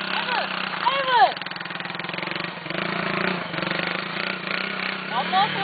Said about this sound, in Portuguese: Olha a moto lá do mano aí.